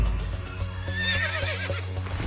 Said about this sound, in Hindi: ओह, चेतक! ये तो चेतक की आवाज है।